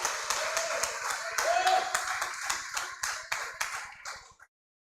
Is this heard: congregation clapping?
yes